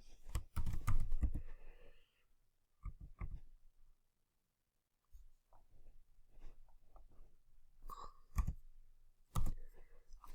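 Computer mouse clicking during page editing in a web tool: sharp isolated clicks scattered through a quiet stretch, some in quick pairs, close and moderately loud, with no speech.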